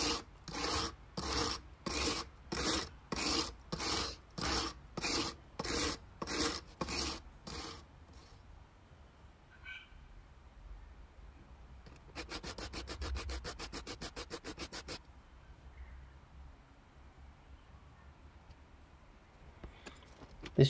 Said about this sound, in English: We've got the chisel mounted up in a guide, a little bit of window cleaner, and let's do some passes and see how this goes.